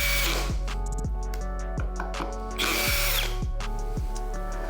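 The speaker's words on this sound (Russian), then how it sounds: "Чтобы посадить шуруп, здесь мне нужно более точное движение." A cordless power drill drives a screw through a magnetic bit holder on a DeWALT versus Milwaukee test, with a loud, steady whine, its motor speed repeatedly dipping and surging as the screw seats, with no talking.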